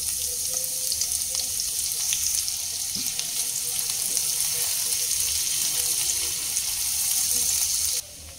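Chopped medium onion frying in oil, a steady dense sizzle at close range that runs unbroken and fairly loud, dropping slightly near the end.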